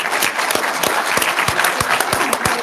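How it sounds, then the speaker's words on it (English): Audience applause for city council and mayoral candidates at a town forum, dense and steady clapping from a room full of people, loud and continuous with sharp individual claps standing out. "Please help me give these candidates a round of applause."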